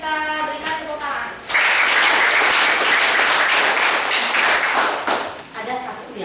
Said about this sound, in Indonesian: kita ucapkan terima kasih dan kita berikan tepuk tangan